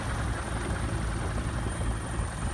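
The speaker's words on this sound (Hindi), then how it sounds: "हेलीकॉप्टर के जरिए पुष्प की वर्षा की गई है।" Helicopter flying low over the Magh Mela crowds at Prayagraj, showering flowers: a steady, loud rotor and engine drone with a dense rumbling low end, continuous throughout with no voices.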